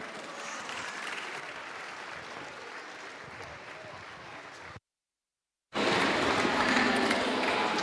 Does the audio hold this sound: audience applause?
yes